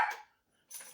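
A dog gives a couple of short, sharp barks close by, separated by a brief silence, the second burst a little weaker than the first.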